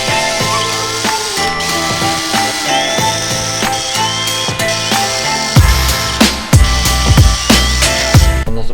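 A power tool drives screws out of the front aero on an A45s AMG, giving loud close bursts of whirring with ratchety clicks and short pauses between screws.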